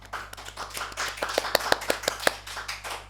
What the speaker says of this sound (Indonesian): boleh dulu nih kita kasih tepuk tangan buat Kak Alif